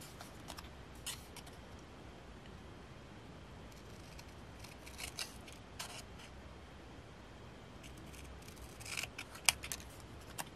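Scissors cutting paper around a signature stamp: faint, close snipping and rustling blade strokes, with clusters of sharper cuts toward the end and no talk.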